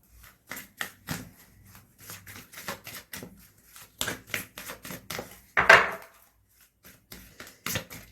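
Tarot cards riffled and shuffled by hand in a series of crisp, papery flutters and taps, close and moderately loud, with one fuller burst near the middle and no talking.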